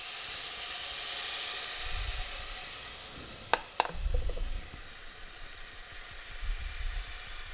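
Steady sizzling and hissing from a pan of browned pasta as tomato is added, with a couple of sharp clinks and stirring scrapes midway, no voices.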